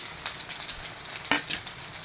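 Toor dal and whole coriander seeds dry-roast in a pan, heard as soft rustling and scraping stirs with one sharper clack midway, quiet and close.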